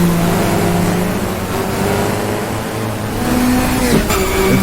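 A 1966 British saloon car in the GTR2 racing game revs hard around Brands Hatch, its engine note droning loudly, then climbing as it accelerates out of a corner.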